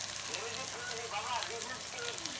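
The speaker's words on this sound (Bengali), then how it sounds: "এই যে রুই মাছ ফ্রাই করতেছি।" Rohu fish frying in a pan in a home kitchen, a continuous close sizzle and hiss with faint rhythmic scraping, no voices.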